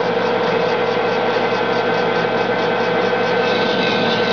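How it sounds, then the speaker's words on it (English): A metal lathe cuts threads on the muzzle end of a gun barrel, giving a steady, loud mechanical whir with a continuous grinding tone and faint ratcheting texture throughout, without pauses. "going to turn on the lathe, and as soon as it gets going and goes into the thread relief"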